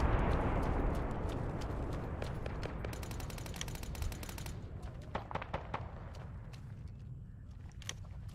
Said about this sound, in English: Sounded like a grenade.